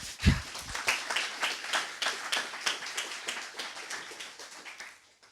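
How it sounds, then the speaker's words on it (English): Applause from an event audience for the helpers at a greenhouse horticulture gathering: a modest round of individual claps close by, with a sharp early clap and a steady patter that thins and fades out over about five seconds. "So also give them a big applause"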